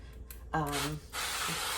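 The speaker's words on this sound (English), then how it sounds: "non-stick spray, and I have some avocado oil spray here" Avocado oil non-stick cooking spray is sprayed into a crock pot, giving a steady airy hiss of under a second that follows a brief voice.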